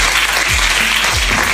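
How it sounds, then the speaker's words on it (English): A crowd applauds as people walk back to their seats, a loud, continuous roar of clapping heard close, with a low hum beneath. "Give them a round of applause as they go to their seat."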